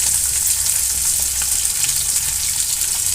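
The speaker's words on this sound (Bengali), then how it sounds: "পেঁয়াজ কুচিটাকে আমি ভালো একটু ভেজে নেব খুব বেশি না হালকা ভাজবো" Chopped onion frying in oil hisses with a dense, loud, steady sizzle from close by, with no talk over it.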